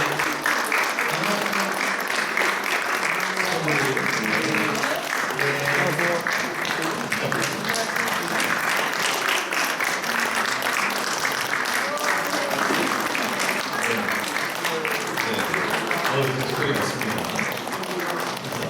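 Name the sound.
applause at church ordination service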